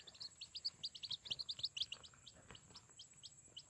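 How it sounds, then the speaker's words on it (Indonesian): Rapid high-pitched chirps from red junglefowl chicks, a dense flurry of peeps that thins out into steadier, evenly spaced cheeps, fairly quiet and close. "ini ayam hutan ini ya anakan ayam hutan"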